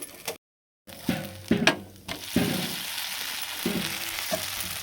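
Dosa batter frying on a hot pan, a steady sizzle running throughout, broken by a brief silence near the start and a few clinks and scrapes of a utensil.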